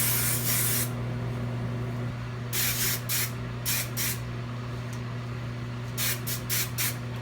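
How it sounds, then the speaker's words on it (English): Aussie Instant Freeze hairspray misted onto hair ends in several short aerosol bursts, a long hiss followed by quick repeated sprays, close and clear over a steady low hum. "I'm just gonna spray these ends with my Aussie Instant Freeze."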